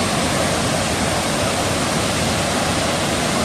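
Marottichal Waterfalls in Thrissur, Kerala, roar close by as a dense, unbroken rush of falling water, loud and even throughout with no voices.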